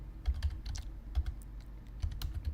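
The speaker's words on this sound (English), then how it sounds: "just type in free" Fingers type on a computer keyboard in a quick, uneven run of soft clicking keystrokes, close and fairly quiet, with no talking.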